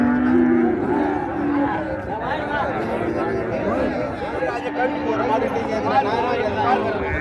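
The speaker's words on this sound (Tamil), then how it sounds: "இதான் அண்ணனோட மாடு" Cattle at the Vadalur cattle market, with dairy and meat cows for sale, low moos rising over a busy outdoor hubbub of crowd chatter and people talking nearby.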